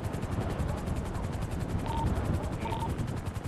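Helicopter rotor drone in the GTA RP video game, a steady loud thrum that fills the scene continuously while the aircraft descends, with faint tones and background chatter mixed underneath.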